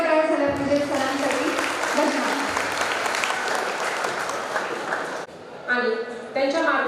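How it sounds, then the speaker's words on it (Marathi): An audience at a school's annual social gathering claps loudly and steadily for about five seconds, a dense wash of applause, before a voice resumes speaking. "एकदा जोरदार टाळ्या झाल्या पाहिजे सरांसाठी."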